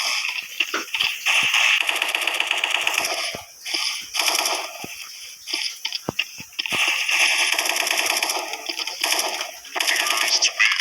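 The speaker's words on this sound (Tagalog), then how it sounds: "madali talaga manalo guys pag ito gamit na baril Gatling" A Gatling gun in the video game Special Force fires long rapid bursts, loud and dense, broken by short pauses and single clicks between volleys.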